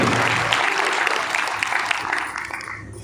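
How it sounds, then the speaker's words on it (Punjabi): Audience applause for the newest Nobel Peace Prize laureate: a dense, steady spatter of clapping from a crowd that holds at full strength, then thins slightly toward the end with no talking. "ਸੋ ਉਸ ਨਰਗਿਸ ਲਈ ਆਪਾਂ ਜ਼ੋਰਦਾਰ ਤਾੜੀਆਂ ਲਾਈਏ"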